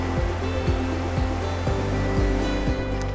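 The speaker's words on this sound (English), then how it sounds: "The trail follows a river through a canyon." Steady rushing water from the river and waterfalls in Johnston Canyon, Banff, a dense continuous roar with no breaks and no voices.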